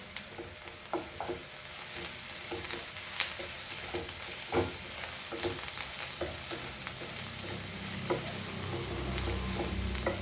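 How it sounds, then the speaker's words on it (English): Green chilies frying in oil with turmeric for poha make a steady close sizzle, broken by repeated light spatula taps and scrapes, and the frying grows fuller toward the end with no one speaking. "So my chilies are fried."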